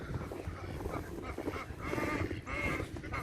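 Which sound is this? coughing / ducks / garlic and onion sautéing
ducks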